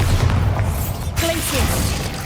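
A magical Bombarda blast in Hogwarts Legacy: a loud, broad booming rumble with a sharp crackling burst partway through, over continuous game ambience.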